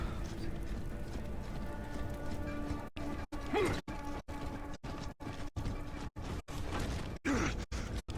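Mechanical noise from a Locust palace in Gears of War 3: a steady whirring, grinding machine bed broken by a run of sharp, evenly spaced knocks and clanks, fairly loud and close, with faint voices now and then.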